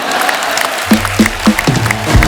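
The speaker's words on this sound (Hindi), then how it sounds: "माता पिता के लिए जोरदार तालियां।" Studio audience applause on The Kapil Sharma Show, a steady wash of clapping that carries on while a person speaks over it.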